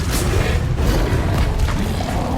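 Incendio fire spell cast in Hogwarts Legacy on PS5: a loud, continuous roaring blast of flame, dense and rumbling, holding steady for about two seconds without a break.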